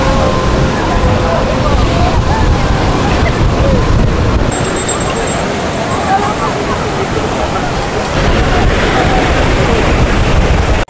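Sea waves wash onto a beach at Puri with a steady, loud, broadband roar and surge. Wind buffets the microphone, and voices talk faintly underneath.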